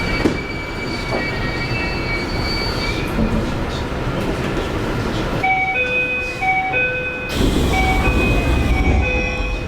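Inside a running Japanese commuter train, a constant rumble of wheels and carriage noise fills the space, with high squealing tones and a bright chime-like signal rising over it partway through.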